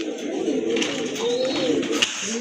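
Pigeons offered for sale coo steadily and close by, with soft overlapping throaty calls and no talk.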